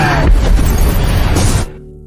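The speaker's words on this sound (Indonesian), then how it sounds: "ada sebuah ledakan besar terjadi di dekatnya" A big explosion in a film roars as a loud, dense blast that fills the clip, then cuts off abruptly into a faint low rumble.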